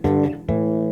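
Bass guitar double stop in fifths, two notes sounding together, plucked twice in quick succession with clear sustained tones, close and isolated.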